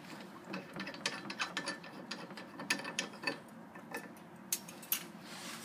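Nuts are unthreaded from the sleeve of a UV water treatment system, producing quiet, close, irregular ratcheting clicks and metallic scrapes in short bursts.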